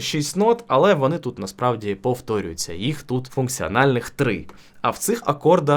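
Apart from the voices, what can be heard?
No distinct noise like a dog, phone or traffic.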